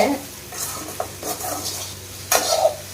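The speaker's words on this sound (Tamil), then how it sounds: "அதை நல்லா ஃப்ரை பண்ணிக்கலாம்" Salted okra frying in a pan for a dry vendakkai varuval, with a soft continuous sizzle broken by scraping stirs and a few sharper utensil clinks against the pan.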